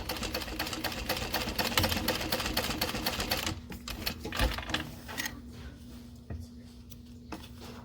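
A sewing machine stitches a seam through vinyl in a rapid, steady mechanical patter that runs loud for about three and a half seconds, then thins into lighter, intermittent clicking and handling noises.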